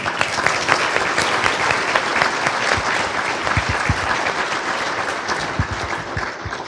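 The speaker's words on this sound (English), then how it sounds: "Please give your applause to the Police Association of Virginia." A large crowd at a banquet dinner applauds steadily, dense clapping that stays loud and sustained from start to finish.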